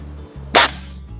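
A Beeman C1 Carbine air rifle fires a single sharp, loud crack against a quiet background hum, the report fading quickly.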